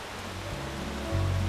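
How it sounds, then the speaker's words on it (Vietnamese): Steady cartoon rain falls as a soft, even hiss of fine drops, faint and continuous, with a low background hum rising near the end and no voices. "Mưa rồi, vào nhà đi con, nhanh kẻo ướt."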